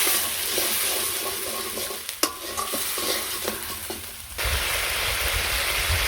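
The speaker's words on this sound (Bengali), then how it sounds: "এই মশলাটা ফুটে আসছে" Spiced masala with turmeric and chili simmering in water in a pan during village cooking, a steady close bubbling and sizzling hiss with a few stirring clinks and a louder, fuller boil near the end.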